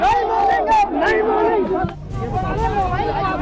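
A crowd of political party workers clamors in a loud, continuous hubbub of many overlapping voices shouting together, close and dense throughout.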